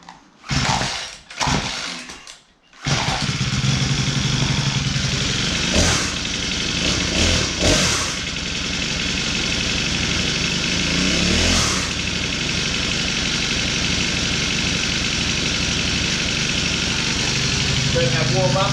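A chainsaw engine starts after a few sputtering pulls and settles into a loud, steady running idle that continues for many seconds.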